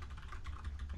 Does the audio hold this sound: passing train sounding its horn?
no